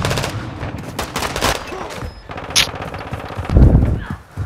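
Bursts of rapid gunfire in Call of Duty: Modern Warfare II Gun Game mode, loud and close, with a sharp crack and a heavier thump near the end, under a player's voice.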